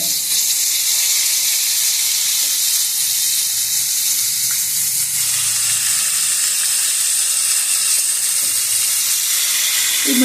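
Salted fish fries in a pan with a constant bright hiss and sizzle, close and steady throughout without pause.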